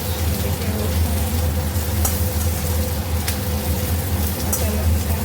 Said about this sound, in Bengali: কাঁচা লঙ্কা দিয়ে দিয়েছি, ভালো করে এখন ভাজি